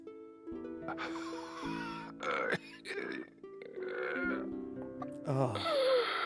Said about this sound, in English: that is the noise of someone dying